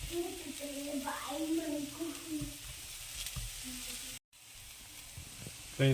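Beef liver sizzles and fries in a hot pan, a steady crackling hiss with some faint stirring and a brief cut near the end, no talk.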